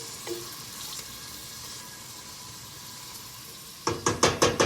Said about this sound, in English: We're gonna let that simmer for a few minutes until that onion starts to turn translucent